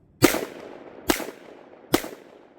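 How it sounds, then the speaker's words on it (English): Three sharp, loud gunshots from a Sig X-Ten 10mm pistol firing 2E ammunition, evenly spaced a little under a second apart, each with a short fading tail. "You can hear a difference in the loudness of that 2E ammo."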